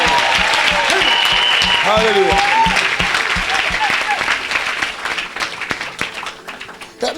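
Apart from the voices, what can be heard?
audience applause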